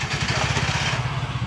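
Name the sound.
tuktuk engine starting and idling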